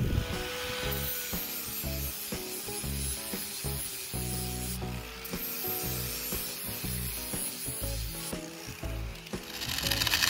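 A sanding disc grinds over rusty, mill-scaled metal in a steady, rough scrubbing drone with rhythmic strokes, fairly close and continuous with no talk.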